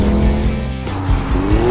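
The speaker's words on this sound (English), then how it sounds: "This is how a car should sound." A VW T-Roc R facelift hot hatch crossover with all-wheel drive, its engine growling loud and close with rising revs and a touch of tyre squeal.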